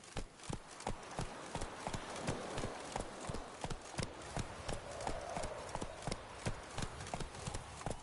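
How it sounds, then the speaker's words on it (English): Hooves of a galloping horse in The Witcher 3 beat in a steady, fast rhythm throughout, close and fairly loud, with a faint background wash. "Giddy up. Come on, Roach"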